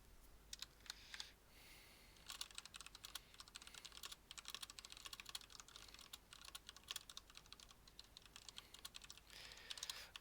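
Rapid, uneven keystrokes on a computer keyboard, typing a message during an online Pirate Galaxy contest, soft and close with short pauses between bursts.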